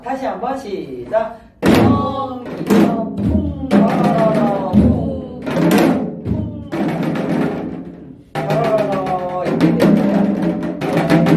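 Korean drum strokes play the gutgeori rhythm, the accompaniment for a folk song, as thumping hits in a steady lilting pattern while a voice chants the rhythm syllables and imitates the beat.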